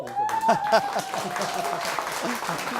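Audience applause at a Korean talk show event, a steady wash of hand clapping from a crowd with a speaking voice on top at the start.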